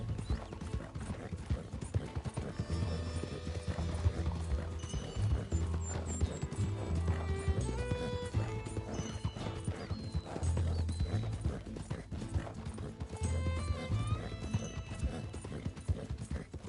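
Horse hooves clip-clopping at a steady riding gait in Red Dead Redemption 2, continuous rhythmic beats with tack and gear jingling, under soft game music.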